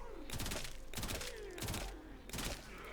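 Bursts of Kuva Karak assault rifle fire in the Warframe video game, four rapid volleys in quick succession, loud and close, with a faint tonal game sound running underneath.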